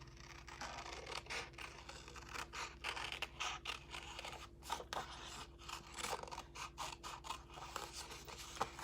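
Scissors cut around stamped card images for a gingerbread and peppermint Christmas card, giving a steady run of close snips and scratchy paper crunches over a low background hum, with no talk.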